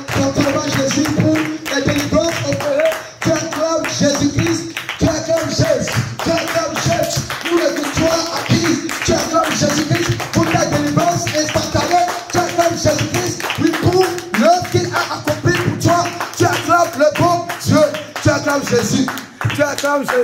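A church congregation claps steadily in rhythm to acclaim Jesus, the dense clapping running throughout alongside singing voices and music in a lively worship gathering.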